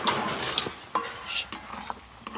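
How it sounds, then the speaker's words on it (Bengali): A spoon scrapes and clinks through pumpkin dal with Malabar spinach leaves and stems in a sizzling pan, with irregular stirring strokes over a steady frying hiss. "এটাকে নেড়ে নেওয়া হচ্ছে"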